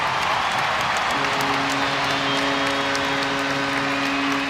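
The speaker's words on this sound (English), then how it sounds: "That's got the Steelers crowd going." A Steelers ice hockey crowd in an EIHL arena roars with loud, continuous cheering and applause after a goal, a dense wall of sound that carries on without a break.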